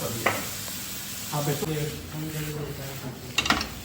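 Mola fish curry being stirred and sautéed in a pan, a soft sizzle with a few scrapes and clinks of a utensil against the pan, fairly quiet under a woman's speech.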